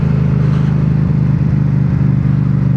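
A Yamaha R7 motorcycle engine drones loud and steady, lugging in too high a gear with a low, even rumble heard close from the rider's position, no speech.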